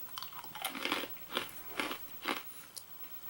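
Crunchy cheddar pretzel pieces bitten and chewed close up, a series of sharp, brittle crunches recurring every half second or so, faint but distinct, with no talk.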